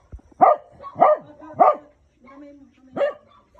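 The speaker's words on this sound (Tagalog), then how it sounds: "Pisa, ba't ka kumakahol dyan?" A dog barks four times nearby, sharp and loud with short pauses, and a low whine sounds between the last barks.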